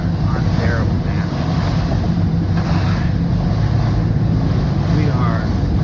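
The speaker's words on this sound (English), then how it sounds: "These waves are terrible," Rough sea with waves and strong wind buffeting a fishing boat, a loud continuous roar of wind noise and surf close to the microphone with no break.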